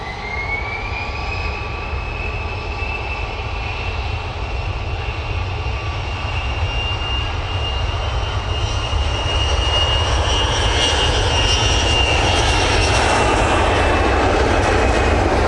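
Emirates airliner jet engines at Manchester Airport, a loud, continuous roar with a slowly shifting whine, steady throughout with no voices.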